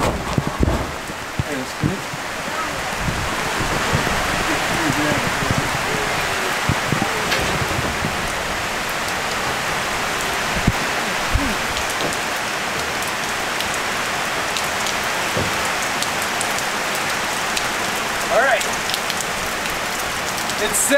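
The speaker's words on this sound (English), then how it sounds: "But it's pouring down some serious rain." Heavy rain pours down steadily on a ranch, a dense, loud hiss of drops drumming on surfaces with scattered sharper patters throughout.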